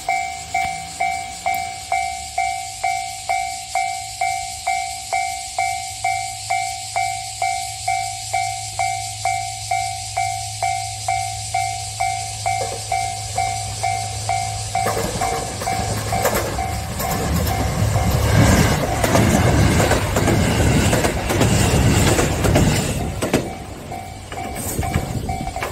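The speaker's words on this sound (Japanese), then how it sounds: "線路がまっすぐに続いていて、遠くから列車が見えます。" A train draws nearer on straight tracks toward a level crossing at Sasanuki, Kagoshima, a steady rhythmic clatter of wheels building into a loud rumbling roar and hiss as it arrives close by.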